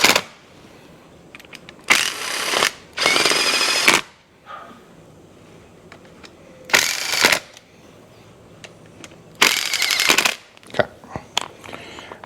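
A power tool whirs in several loud bursts of one to two seconds each, driving bolts down during motorcycle assembly, with quiet clicks and handling noises between runs.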